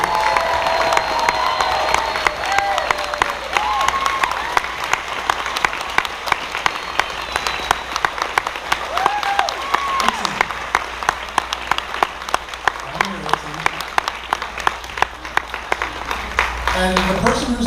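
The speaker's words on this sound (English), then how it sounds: "can everyone give them a big," Sustained loud applause from the audience at the Megaplex 2017 convention closing ceremony, dense clapping with cheers and scattered shouts over roughly eighteen seconds, voices mixed into the crowd noise.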